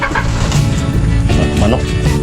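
A chicken clucks and calls up close over a busy, noisy background, with a voice mixed in.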